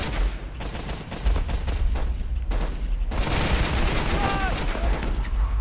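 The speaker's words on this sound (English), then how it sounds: "We're gonna shoot this way and kill those guys." Rapid gunfire fills a battle in the online war game Warfare 1944, dense overlapping shots and bursts crackling steadily, with a voice talking over the din.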